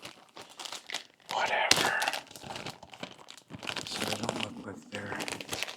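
A plastic bag of tortillas crinkles loudly in bursts while being handled for the microwave, with a person talking between and over the rustling.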